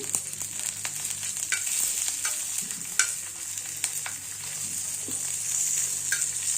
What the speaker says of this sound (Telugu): ఆవాలు జీలకర్రలు చిటపట్లు ఆడుతున్నప్పుడు